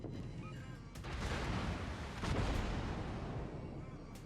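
Naval gunfire in World of Warships, a Tier VII Russian cruiser battle, rumbles as dense overlapping booms and blasts, fairly faint, with swelling bursts of salvos and no voices.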